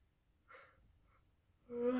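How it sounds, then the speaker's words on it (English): A yawn during a self-administered Kambo (Sapo) session: a soft breathy exhale first, then a rising voiced yawn close to the mic near the end, with no talking. "The yawn again."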